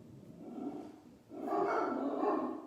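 Several house dogs bark and yap indoors, a muffled continuous clamour that swells louder halfway through and carries on with no talk over it.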